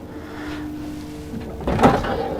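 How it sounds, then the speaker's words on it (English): A drawer on an Azimut Seadeck 6 boat is lifted and latched in a cabin, giving a single nearby knock and rattle late in the clip over a quiet interior hum. "All of the drawers that I've seen are lift and latch"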